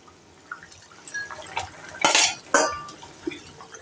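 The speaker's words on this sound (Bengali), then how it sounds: "আমার এই যে ভেজে রেখেছিলাম যে মাছগুলো আমি সব দিয়ে দিলাম।" Fried fish pieces dropped into curry gravy over a high flame, giving a few soft clattering splashes and a brief sizzling burst at close range, with no talking.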